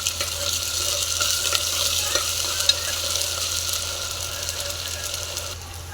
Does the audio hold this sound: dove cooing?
no